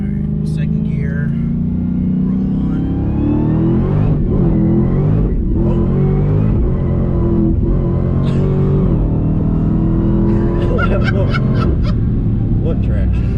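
A Dodge Hellcat Redeye accelerating hard in second gear, its engine roaring loudly and steadily with a rising pitch, while people talk excitedly over it.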